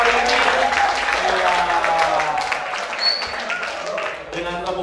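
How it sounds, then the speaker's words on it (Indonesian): Applause from an audience at a Christmas youth church event, clapping that rises and fades beneath a voice speaking over it, with a loud crowd texture throughout. "saya minta tepuk tangannya yang mulia malam hari ini"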